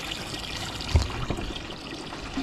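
Water trickles and pours into a pot of rice being readied for cooking on a stove, a soft, uneven splashing with one brief louder splash, heard up close.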